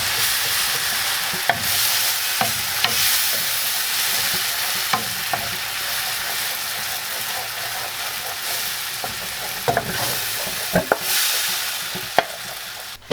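Ice cream melts in a hot pan while a spoon stirs it, giving a steady close sizzle with irregular scraping strokes throughout.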